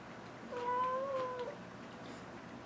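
A house cat gives a single close, drawn-out meow of about a second over a quiet room.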